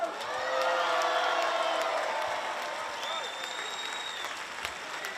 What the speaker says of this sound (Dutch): geef ze nog één keer een groot applaus